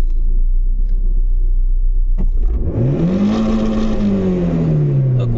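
An Opel Astra G engine idles low, then revs up sharply under load, its pitch climbing and holding high before sagging as it cuts out, loud and close.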